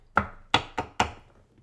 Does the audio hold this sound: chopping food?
yes